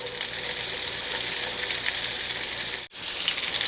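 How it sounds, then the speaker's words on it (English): Potatoes sear in a single layer in a hot skillet, a constant bright crackling sizzle heard close, broken only by one brief dip near the end. "you want to leave them there so that they can sear and get nice and golden brown on one side"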